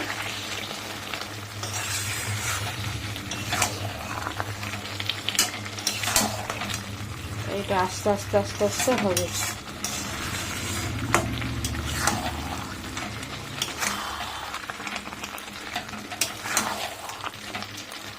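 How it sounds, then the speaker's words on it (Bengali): Chicken with cumin powder, coriander powder and turmeric being stirred in a pan, a steady sizzle under a brief scraping burst of spoon against pan, with a voice speaking softly near the end. "দিয়ে এবার এটাকে ভালো করে মিশিয়ে নেব।"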